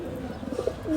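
Pigeons feeding in the evening, with several soft coos and low murmuring calls close by over a steady background hum.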